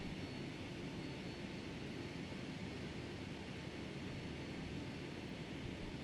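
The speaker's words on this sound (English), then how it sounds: "Let's go get on the runway. Might just do a rolling takeoff." Steady, loud broadband roar of simulated Boeing 757 jet engines in FSX (Flight Simulator X) on a rolling takeoff. The roar holds at a constant level for the whole stretch, with no talking over it.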